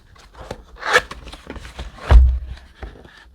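Packaging for a Cwaywos Thinkway CROAD C604 mechanical keyboard is opened, with scattered close scraping, rubbing and cardboard handling sounds and a couple of louder thumps.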